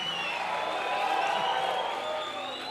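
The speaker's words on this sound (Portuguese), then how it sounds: "dá um aplauso e um grito de vitória." A church congregation claps and cheers together in one sustained burst of applause and shouts, moderately distant and fairly even throughout.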